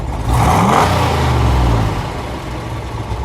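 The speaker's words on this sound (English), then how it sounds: "Go ahead, give it a rev." A 1964 Chevrolet Impala SS 409 four-speed convertible with factory dual exhaust revs outdoors on grass. Its engine rises in one loud, close surge, holds, then drops back toward idle.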